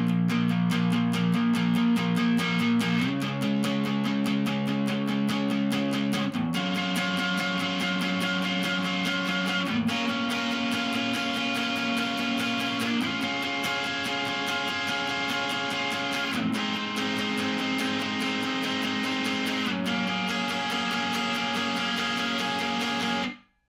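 Distorted electric guitar strums the chorus of a song, loud and sustained with chord changes every few seconds, playing alone without any voice.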